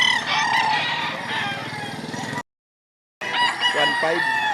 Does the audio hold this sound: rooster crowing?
yes